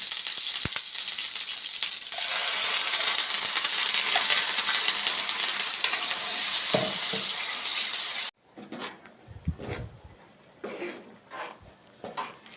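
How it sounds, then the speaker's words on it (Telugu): Onions frying in oil in a pan for chinthakaya (tamarind) chutney: a steady, close broadband sizzle lasting about eight seconds, then a cut to quieter, irregular stirring and scraping noises with bursts of sizzle. "ఉల్లిగడ్డలు వేగిన తర్వాత కరివేపాకు వేసుకోవాలి"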